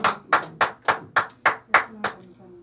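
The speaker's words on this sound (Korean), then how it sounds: "하나님께 영광의 박수 올리겠습니다" A church congregation claps in unison in praise, about eight sharp, evenly spaced claps in a steady beat, with a low voice or tone murmuring faintly underneath.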